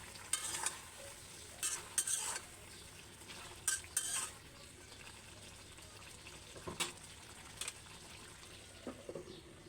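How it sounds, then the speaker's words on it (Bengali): Drumstick curry simmering in a covered pot is stirred now and then, giving several short scraping and clinking bursts over a faint low bubbling background. "এই যে আমি মাঝে মাঝে ঢাকনা খুলে খুলে নেড়ে দিচ্ছি"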